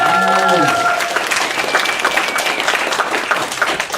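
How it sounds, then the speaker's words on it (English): A round of applause from the crowd at a pony fan convention in Vancouver, continuous clapping throughout, with a voice briefly speaking over it at the start. "Round of applause once again for"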